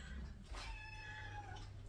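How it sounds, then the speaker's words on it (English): A male house cat meows with a long, drawn-out call indoors, fairly close but quiet against a steady low background hum. "Please ignore my cat."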